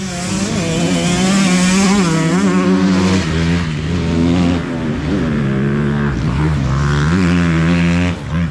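A 125cc motorcycle engine drones loudly up close, its pitch rising and falling as it revs and rides along without pause.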